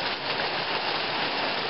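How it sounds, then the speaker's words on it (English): Steady rain falls outside a woodworking workshop in Georgia, a dense even hiss of drops on surfaces with no voices, continuous and close. "it's raining again in Georgia"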